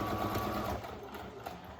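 A sewing machine stitches elastic into the corner of a child's fabric face mask, a quick, close run of rapid mechanical clatter that lasts under two seconds.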